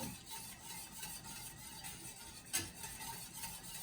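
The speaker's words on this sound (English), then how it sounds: "you want to continuously stir it so that the milk doesn't scourge and get lumpy" Milk stirred continuously in a pot for a cauliflower cheese sauce, a quiet, steady scraping swirl with one brief clink of the utensil against the pot, close and faint, with no voices.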